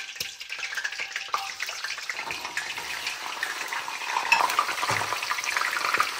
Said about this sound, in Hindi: अब कुछ देर के लिए मैं फ्राई करूंगा प्याज को और शिमला मिर्च को।